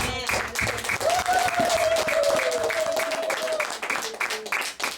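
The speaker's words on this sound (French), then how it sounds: "Acclamons Jésus" A church congregation claps and cheers in praise during a service, with loud, sustained applause filling the room and a voice holding a long, drawn-out cry over the crowd.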